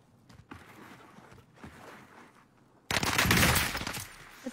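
Rapid video game gunfire bursts in a team shooter match, a sustained loud volley erupting after quieter background game noise and scattered shots.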